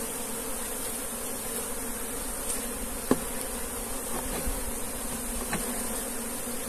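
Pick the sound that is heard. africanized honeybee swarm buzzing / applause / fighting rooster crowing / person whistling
africanized honeybee swarm buzzing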